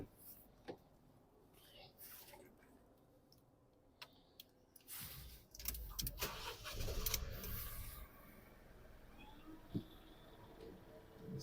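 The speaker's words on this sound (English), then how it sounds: "then again I'm going to start the car" A car engine cranks and catches midway through, a brief burst of starter whir and engine roar among scattered clicks and handling noises, with a person speaking quietly nearby.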